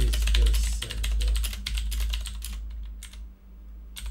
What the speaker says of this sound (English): My fucking friend told me to buy this keyboard.